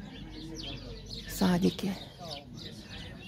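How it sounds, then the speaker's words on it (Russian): Small birds, mostly sparrows, chirp in a garden with quick faint tweets scattered in the background while someone speaks over them. "Птицы поют отовсюду. Но я смотрю, что птицы в основном воробушки здесь у них."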